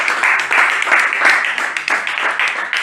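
A congregation at a church service applauds, with steady, dense clapping that pulses slightly in intensity and holds loud throughout the short stretch.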